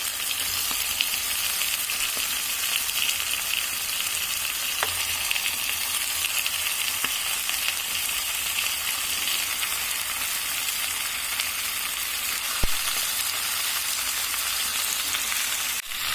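Fried potatoes added to meat in a pan sizzle loudly and steadily, a constant close crackle with a couple of faint utensil clicks and no talking.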